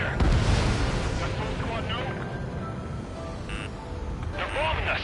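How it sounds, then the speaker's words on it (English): Bombing explosions in an F-22 Raptor combat flight game, heard as loud, deep rumbling booms and blasts that fill the whole stretch, with radio voices talking over them. "They're bombing us."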